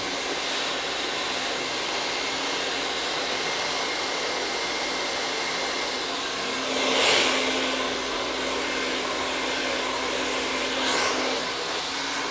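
A hair dryer blowing on hair runs as a loud, steady whoosh with a constant hum, swelling briefly twice as the airflow shifts, with no talking.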